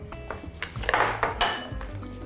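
Walnuts and dried peaches tipped into a cooking pot for chicken drumsticks in tahini sauce, giving a brief cluster of clinks and rattling knocks against metal, close and moderately loud, with no voices.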